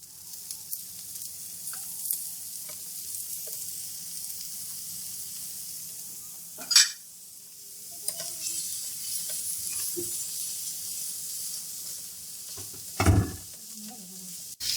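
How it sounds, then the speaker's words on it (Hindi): Boiled chana dal and egg frying and being stirred in oil on a tawa, Lahore-Karachi street-food style, a continuous low sizzle broken by sharp scraping clatters of a spatula against the griddle, no talk. "4 से 5 मिनट मजीद हम इसको इस तरीके से भून लेंगे"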